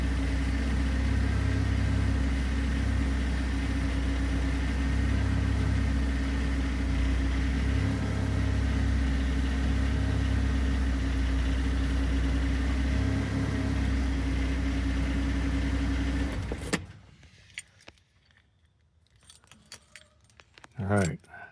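A 1995 Porsche 968 idling after a cold start, its steady engine drone loud and constant with a low hum, then abruptly cutting off near the end, leaving faint handling noises.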